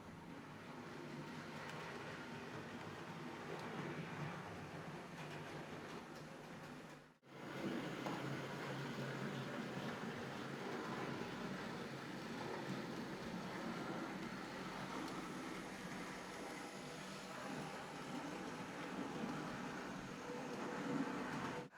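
Hornby Edward model train engine with DCC fitted, running at about half power and pulling trucks around a track, giving a steady faint mechanical whir and rattle for about twenty seconds, with a short break partway through.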